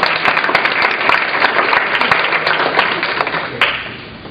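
A small audience claps after a presentation: dense, loud, continuous hand clapping that holds steady for several seconds, then thins and fades at the close.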